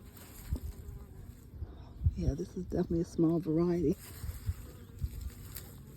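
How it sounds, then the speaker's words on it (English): Bees buzz around a backyard garden bed during a potato harvest. The faint insect drone runs beneath a person talking close by, alongside rustling and soft handling noises. "Bees are over here buzzing."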